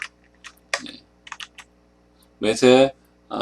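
Computer keys tapped in a few sparse, light clicks while setting up a UWP face-detection app, followed by a louder burst near the end as a voice begins speaking.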